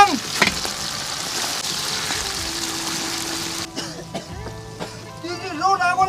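Dried chilies hit hot oil already holding scallion, ginger, garlic, hotpot base and chili bean paste, giving a steady crackling sizzle that later settles as stirring and clatter take over, with people talking nearby.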